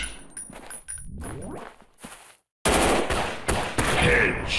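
Gunfire in the Android first-person shooter Gun Strike War: sharp, loud bursts of rapid automatic shots and single reports, with a brief silent gap before dense, heavy firing resumes.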